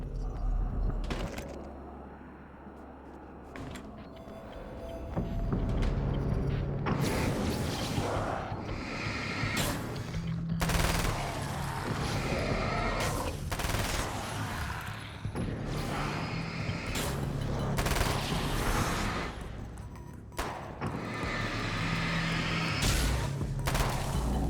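Gunshots and action effects in the video game Alan Wake's American Nightmare on Nightmare mode, a busy mix of shots, whooshes and mechanical clanks over a low game score, moderately loud throughout.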